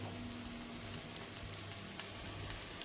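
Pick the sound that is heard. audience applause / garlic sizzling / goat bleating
garlic sizzling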